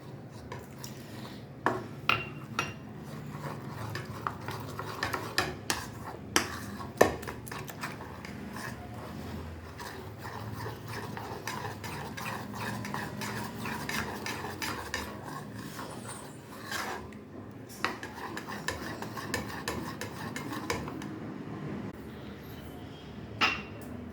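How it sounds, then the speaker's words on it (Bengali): Jute leaf fritter batter being mixed with water in a bowl, quiet repeated scraping and stirring with sharp clinks of a utensil against the bowl, steady and close throughout. "পরিমাণ মতো জল দিয়ে ভালোভাবে গুলে একটা ব্যাটার তৈরি করে নেব"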